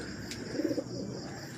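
A pair of red American pigeons nesting with a newly hatched chick gives a soft, brief throaty coo, heard faintly against quiet background noise.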